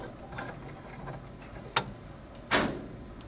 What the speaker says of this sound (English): This particular vise can clamp same shaped rock samples